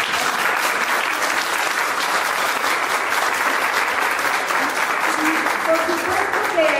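Loud, continuous audience applause fills the room at an event about women's biographies, even and sustained throughout with a faint voice underneath.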